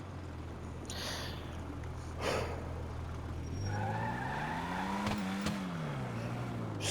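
Fagaloa car in a video game revving its engine with rising and falling pitch, joined by tire squeal and skidding, steady and fairly loud with no talk.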